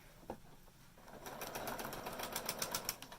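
A sewing machine stitches a Y seam, its needle running in a quick, steady rhythmic patter that starts after a brief quiet handling sound and stays close and fairly soft.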